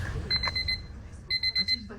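An alarm clock goes off for a 4 a.m. wake-up on a Toubkal mountain trip, sounding as two bursts of rapid high beeping over a low rumbling background, moderately close.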